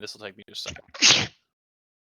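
A single sharp sneeze bursts out just after a person finishes a short sentence during a tabletop role-playing game session, loud and close, then silence follows.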